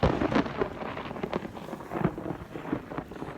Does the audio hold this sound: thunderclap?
yes